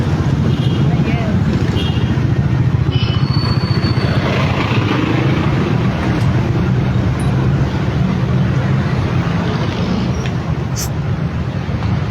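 Heavy, steady road traffic rumbles across the Ungka flyover in Pavia, Iloilo on a weekday morning, a loud, continuous roar of engines and tyres without a break.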